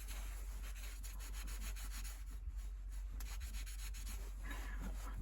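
Gun oil rubbed by hand into an axe blade in an Alaska workshop, a steady continuous rubbing and wiping sound close up, fairly even in level throughout with no talk.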